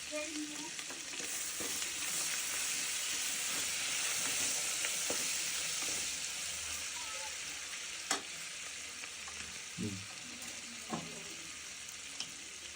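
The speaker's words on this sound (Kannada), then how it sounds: "ಇದಕ್ಕೆ ಸ್ವಲ್ಪ ಶುಂಠಿ ಬೆಳ್ಳುಳ್ಳಿ ಪೇಸ್ಟ್ ಹಾಕ್ಕೊಂಡು ಮಿಕ್ಸ್ ಮಾಡ್ಕೊಳ್ಳೋಣ" Ginger garlic paste and paneer frying in a pan for jeera rice, giving a loud continuous hissing sizzle close by, with occasional spatula knocks and scrapes toward the end and no talking.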